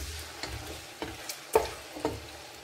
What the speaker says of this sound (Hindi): ये देखें, यहाँ इसे मैं फ्राई कर रही हूँ।